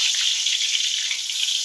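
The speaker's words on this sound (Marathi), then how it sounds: "आपण डायरेक्ट दोडका टाकतोय बरं का भरलेला" Stuffed ridge gourd dropped into hot oil already tempered with mustard seeds, giving a close, steady, hissing sizzle throughout, with no voices.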